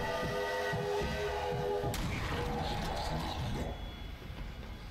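A train rushes past in the zombie shooter Zombie Army Trilogy, a loud sustained roar with a steady horn-like drone that cuts off abruptly midway, leaving rumbling noise that fades slightly at the end.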